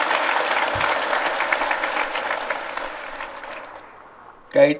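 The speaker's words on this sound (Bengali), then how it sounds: "তাদের সবাইকে আবার জোরে হাততালি দিয়ে একটা সবাই মিলিত হাততালি" A crowd at the opening ceremony of Bangladesh's National Fish Week 2025 gives loud, sustained applause that gradually thins and fades. A voice comes in at the very end.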